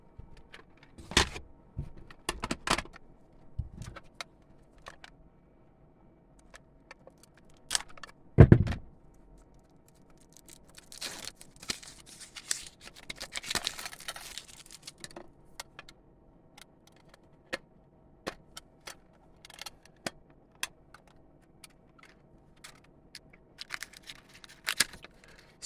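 A 2003 Pokemon lunch box tin package filled with gum is ripped open by hand: scattered sharp clicks, a heavy thump and bursts of crinkly rustling and tearing, close and fairly quiet, with no talking.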